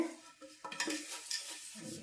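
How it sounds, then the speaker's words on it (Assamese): Dishes being scrubbed by hand with homemade dishwashing soap, a close, irregular scraping and clinking of utensils with short rubbing strokes and small knocks of pots and plates. "ঘৰত বনোৱা বাচন ধোৱা চাবোন তাই ব্যৱহাৰ কৰি মাজি আছে।"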